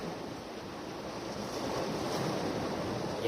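Strong sea waves rushing and surging around a fishing spot at night, a continuous broad wash of surf mixed with wind noise, swelling louder partway through.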